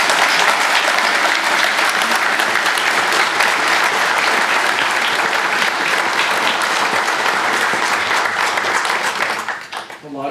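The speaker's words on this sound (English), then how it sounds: "Let's give Larry a round of applause." A crowd at the ribbon cutting for the VCSU Center for the Arts claps loudly and steadily for about ten seconds. The dense applause thins and trails off only at the very end.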